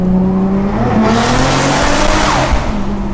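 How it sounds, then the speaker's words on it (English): A Toyota JZX100 roars at high revs close by, and a brief tire chirp rises as the clutch kick makes the rear tires grip instead of sliding. The steady engine drone continues throughout. "Bro, what a fail of a clutch kick. It just gripped up on me."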